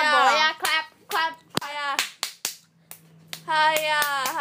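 Children playing a pretend fight game talk and shout, and a few sharp, separate hand claps cut in between their voices.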